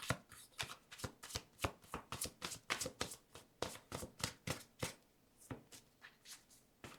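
Tarot cards are shuffled by hand in a quick, even run of soft slaps and riffles, about three per second. The sound is quiet and close, with no talk.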